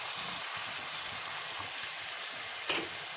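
Vegetables (cabbage, capsicum, peas and carrots) stir-frying in a pan for Singaporean rice, a steady close sizzle throughout with a brief louder stir or scrape near the end.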